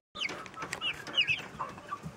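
Several chickens clucking softly and intermittently at close range, with short irregular calls and no talking.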